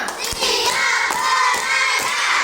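Primary school students in a classroom clapping in unison to a counted chant, several crisp group claps spaced across the moment, loud and near, mixed with children's voices.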